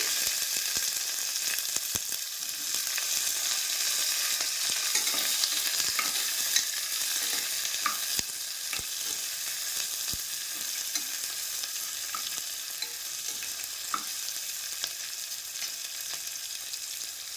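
Onion frying with two bay leaves in a hot pan for veg pulao, a steady close sizzle throughout with occasional stirring clicks and no talking.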